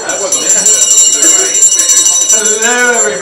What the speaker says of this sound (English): I'll use the little bell today, Gabriel.